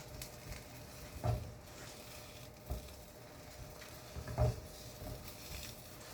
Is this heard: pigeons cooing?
no